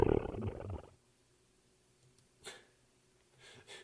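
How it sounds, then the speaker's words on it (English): A canned tummy-rumble sound effect from the Memories Off visual novel, resembling a lion's purr, sounds as a brief rough growl at the start, followed by near silence and a few faint clicks. "It's supposed to be a tummy rumble, but it's more like a canned lion's purr sound effect."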